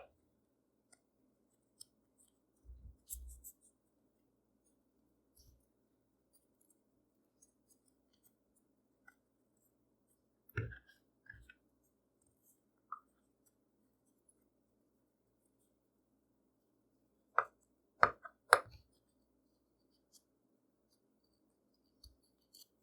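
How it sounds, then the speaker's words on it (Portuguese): Scissors snip fabric for a cloth doll's body in sparse, isolated clicks and crisp cuts scattered across an otherwise quiet stretch, with no talking. "aqui eu uso auxílio de uma tesoura, só tenho cuidado para não usar tesoura com ponta fina"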